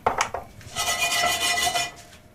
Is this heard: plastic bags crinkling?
no